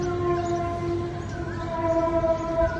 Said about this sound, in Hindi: ये सुनिए, ये सायरन की आवाज।